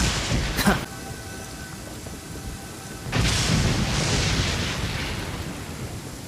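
Rain falls in the Genshin Impact video game, a steady hiss of downpour that swells into a louder, fuller rush partway through, with a brief crack-like burst near the start.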